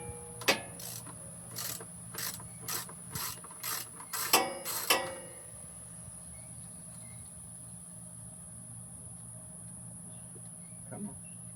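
A hand ratchet loosens 10mm nuts on the carburetor studs of a Kohler 7000 series engine: several short runs of sharp metallic clicks come close and clear, then give way to a quiet room with one faint later click.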